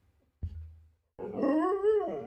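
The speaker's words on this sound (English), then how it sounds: "Funny dog." After a soft thump, a dog gives one drawn-out, rising and falling bark that is close to a howl, heard alone in a quiet room.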